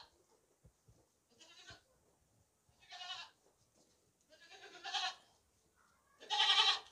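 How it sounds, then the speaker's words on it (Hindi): Healthy, clean-looking male goat for sale, bleating in several short bursts that grow louder, with soft shuffling and faint thumps between calls. "हर तरह से खूबसूरत साफ सुथरा बकरा है ये।"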